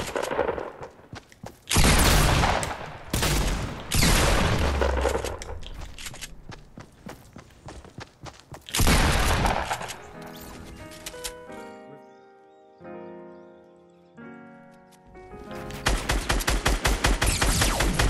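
Rapid gunfire from a Fortnite battle royale match aimed at the player, loud bursts and volleys repeating over several seconds with brief gaps and footsteps between them.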